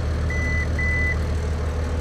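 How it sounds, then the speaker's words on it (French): Two short electronic beeps from the cab console of a vehicle with a trailing steering axle, heard clearly over a steady idling engine rumble, with no speech. "Un double bip."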